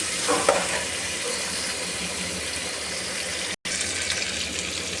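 A small tomato sautés in a pan with a continuous close sizzle and hiss. A brief stirring scrape comes near the start, and the sound cuts out for an instant near the end.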